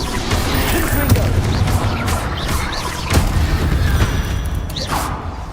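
Blasting spell explosions in Hogwarts Legacy combat: a few heavy booms and crashes at about three and five seconds break through a dense, steady wash of game noise and effects, with no clear talk.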